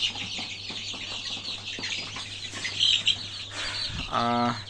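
Native chicks and chickens cluck and chirp steadily through a low hum, with a louder, rhythmic rooster-like call near the end.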